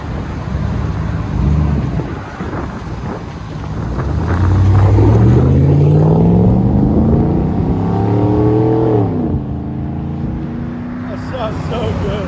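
A GMC Yukon Denali with a 6.0-liter engine revs up with a deep rising roar that climbs in pitch, holds, then drops back, loud and close among outdoor noise.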